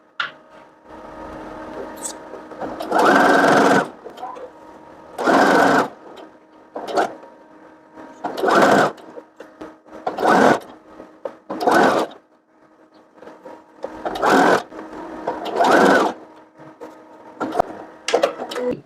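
Domestic sewing machine stitching a lined child's dress with a ruffled yoke, running in repeated bursts of a few seconds each with short pauses between, close and fairly loud, without voices.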